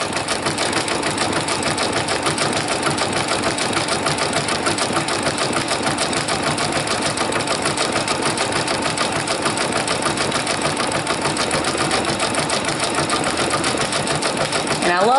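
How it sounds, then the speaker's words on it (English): A Brother Persona PRS100 embroidery machine stitches the letter D onto a Vera Bradley bag, its needle hammering in a fast, steady, close mechanical rhythm that runs without pause throughout. "I love the things that I can put on the machine and walk away and go be cooking or doing something else while it sews"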